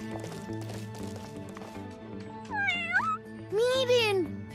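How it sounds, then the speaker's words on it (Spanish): A kitten in an animated children's adventure gives two rising, whiny meows near the end, over a soft musical background. "Es uno de los gatitos del alcalde Hamdinger."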